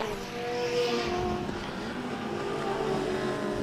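Heritage touring cars racing, including a Turbo Bluebird, with engines droning at moderate distance in a steady, sustained roar that swells slightly as they pass.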